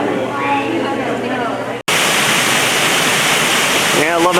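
Waterfall in the Ozark Highlands exhibit at the Oklahoma City Zoo, a steady broadband rush of falling water that runs throughout, briefly cut once, with voices talking over it.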